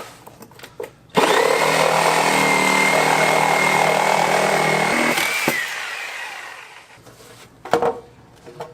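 A power tool cutting into metal HVAC ductwork in a recording studio, a loud steady high whine that runs for about four seconds and then winds down, with faint knocks before and after.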